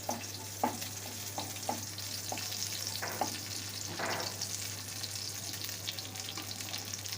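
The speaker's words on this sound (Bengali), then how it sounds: "কালো জিরে কাঁচা লঙ্কা দিয়ে একটু নেড়ে নিলাম" Nigella seeds and green chillies stirred and frying in a pan for a hilsa fish curry with potato and aubergine, a steady low sizzle with a few soft scraping strokes, close and unaccompanied by talk.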